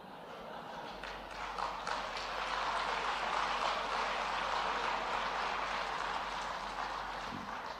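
Indoor audience at a speech by a chief minister breaks into sustained clapping, starting sparse then building into a dense, rhythmic wash of applause that carries on steadily.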